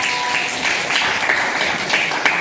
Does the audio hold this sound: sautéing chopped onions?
no